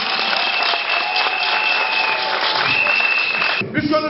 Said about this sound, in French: Je voudrais vous demander d'applaudir très fort le président Talon et le président Tshisekedi.